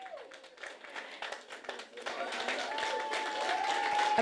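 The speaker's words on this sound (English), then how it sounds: "And we'll cut the cake after 3. 1, 2, 3. Round of applause." A small crowd claps a round of applause after a cake cutting at a launch event for an agent banking facility, with scattered claps building into steadier clapping amid voices and room noise.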